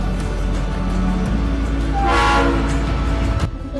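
Kalka–Shimla toy train in the Himachal hills pulling away after a brief station stop, a steady rumble of moving carriages with a horn-like tonal swell rising and fading midway, fairly close and loud, no talk.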